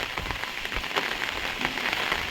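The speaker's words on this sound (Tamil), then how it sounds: "இப்போ தமிழ்நாட்டில் பரவலாக தித்வா புயலில் மழை பெஞ்சிக்கிட்டு இருக்குது" Steady rain from Cyclone Ditwah in Tamil Nadu patters on a surface, dense and even with scattered sharper drops, fairly soft and continuous with no voices.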